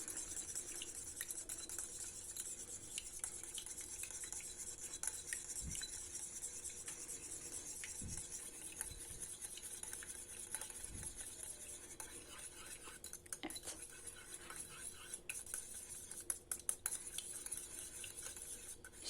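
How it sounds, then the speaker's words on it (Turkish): A small whisk beating olive oil and egg together in a bowl, faint steady clinking and stirring with occasional sharper taps against the bowl's side. "küçük çırpıcımla ilk önce zeytinyağı ve yumurtayı birbirine iyice karıştırıyorum"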